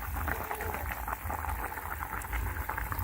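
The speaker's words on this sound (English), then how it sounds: "It's boiling up really nice." A pot of Jamaican home-style chicken with browned sugar bubbles on the stove, a soft, steady simmering burble with faint pops close by and no talking.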